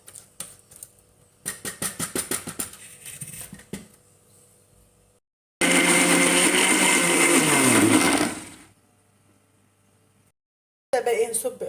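A kitchen blender mixing cake batter, with short clattering pulses, then a loud continuous whirring run of a few seconds, then a brief restart at the end, with a voice speaking in the pauses.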